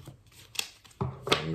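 Tarot cards being shuffled by hand, a few soft riffling bursts and taps close up, fairly quiet, with no talking.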